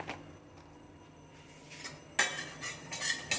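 Spices for paneer tikka, including kasuri methi, roasted cumin powder and Kashmiri chilli powder, are stirred together with a spoon. After a quiet start comes a sudden burst of close metallic clinks and scrapes against a bowl.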